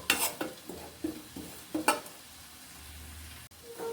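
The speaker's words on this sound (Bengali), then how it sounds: "মশলাগুলোকে এইভাবে ভেজে নিল ততক্ষণ ভাজতে থাকবো একটি সুন্দর ফ্লেভার না বের হওয়া পর্যন্ত" Whole spices are dry-roasted and stirred in a pan for a mixed-vegetable curry, giving a handful of quick scraping strokes over a faint, low sizzle that then fades to near quiet, close and soft with no voices.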